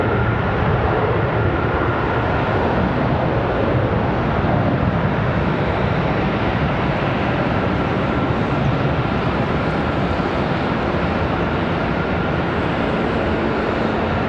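A CRJ regional jet departs Charlotte Douglas International Airport with a continuous, heavy engine roar that stays loud and full for the whole stretch, with no talking over it.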